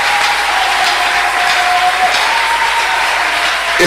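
A church congregation applauds together in praise of God, a dense, steady wash of clapping sustained evenly from start to finish with no pauses.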